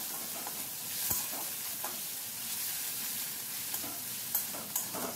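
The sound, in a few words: fish stirred on low heat with garlic and nigella seeds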